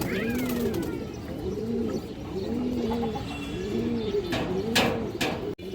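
A male silver pigeon coos close by in a steady rhythm, with about five repeated rolling coo phrases over a quiet background, and no talking.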